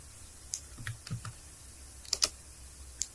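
Typing on a computer keyboard while entering a skill into an online freelance profile form: a handful of light, irregular key taps in short bursts, close and fairly quiet against faint room hiss.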